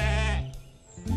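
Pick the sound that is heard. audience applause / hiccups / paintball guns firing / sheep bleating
sheep bleating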